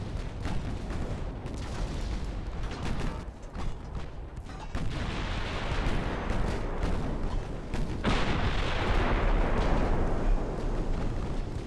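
Battleship guns firing in the naval game Ultimate Admiral Dreadnoughts, a run of heavy booming salvos and rumbling blasts, loud and continuous, with one burst swelling louder near the end; no talking.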